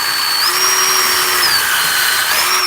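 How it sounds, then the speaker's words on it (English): Power drill pre-drilling into wood, a steady loud whine that rises in pitch and holds, dips briefly, then climbs again, close up and alone with no talking. "I pre-drill so I don't split the wood."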